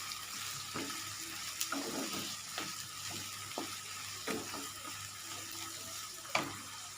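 Finely chopped ingredients for egg akuri sizzle in a pan over a low, even hiss, while a spatula stirs with irregular clicks and scrapes that rise now and then.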